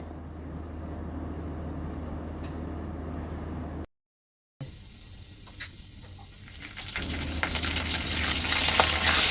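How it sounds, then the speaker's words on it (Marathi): Curry leaves sizzle in hot oil with ginger and garlic; a steady frying hiss cuts out briefly, then returns and swells louder and crackly toward the end. "आलं लसूण छान असं तेलामध्ये परतून झालं की त्यामध्ये कढीपत्ता घालून घेणार आहोत"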